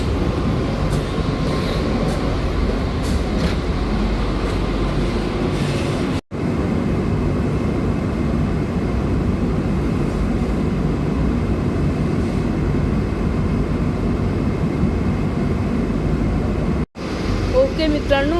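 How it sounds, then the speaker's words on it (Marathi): A MEDHA AC local train accelerating between Borivali and Virar, heard from inside as a loud, steady rumble of wheels and motors with two brief dropouts; no one speaks. "आता आपल्या ट्रेन खूप जास्त चांगली स्पीड घेते"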